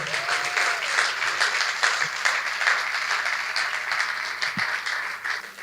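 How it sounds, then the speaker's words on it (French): An audience at an eloquence contest final applauds with dense, steady clapping that fills the room and holds evenly for several seconds. "Sous vos applaudissements."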